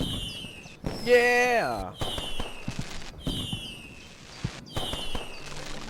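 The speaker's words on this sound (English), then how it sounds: "nobody who could have fired off those fireworks" Fireworks in a pirate battle video game, a series of bursts with descending whistles spaced about a second apart, fairly near, while a voice cheers briefly.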